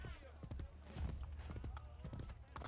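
Horse hooves gallop in a steady, rapid clip-clop during a ride in the video game Assassin's Creed Brotherhood, running throughout beneath someone talking.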